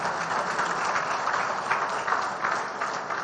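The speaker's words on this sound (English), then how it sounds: "I think a bigger round of applause will convince her." A crowd claps steadily at a groundbreaking ceremony, a dense continuous wash of applause that holds at an even level throughout, with no voices breaking through.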